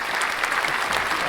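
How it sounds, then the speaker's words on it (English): A crowd in a radio studio gives a burst of steady, dense clapping, close and fairly loud throughout, with a hint of voices beneath. "That's called the slow clap."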